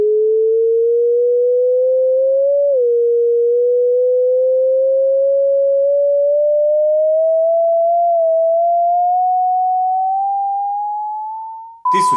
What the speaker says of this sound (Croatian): Tisuća, to je onaj standardni ton na televizoru